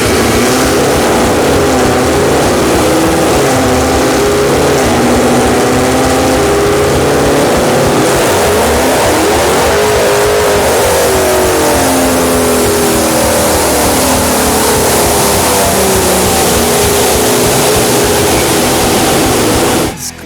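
A very loud Ford Mustang-type pony car on a dyno run roars steadily at high RPM, its engine note climbing and sweeping upward midway, then holding a harsh sustained wail for about twenty seconds, close and overpowering.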